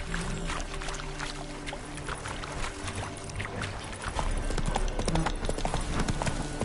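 Roach, Geralt's horse in The Witcher 3, gallops with steady, fairly close hoofbeats over a busy game soundscape of ambient music and background effects.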